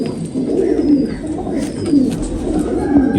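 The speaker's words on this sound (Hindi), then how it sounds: "बड़े हसास से कबूतर हैं" Black Tiger pigeons coo in low, repeated rolling calls, a steady murmur of several birds close by with soft rustling and faint background noise.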